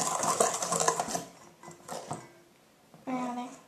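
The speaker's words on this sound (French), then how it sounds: "Ensuite, on va rajouter 20 g de maïzena, tout d'un coup. Et on fouette." Cornstarch being whisked into a strawberry dessert mixture for strawberry domes: rapid, close scraping and clinking of a whisk in a bowl, continuous at first, then fading, then a brief final burst, with a voice talking over it.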